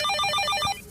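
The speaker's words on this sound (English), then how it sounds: "Captain America is suggesting you answer the phone with words" Cartoon telephone in an animated superhero series, giving a rapid electronic ring in a quick burst of repeated trilling tones that stops abruptly near the end.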